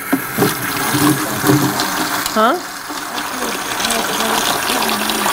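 Water runs from a tap as something is rinsed out, splashing and gurgling at close range beneath brief conversational voices.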